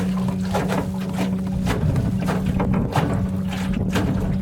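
A solar-powered electric motor drives a Grumman sportboat across the water, a steady low hum running continuously, with wind and water noise around it and no talk.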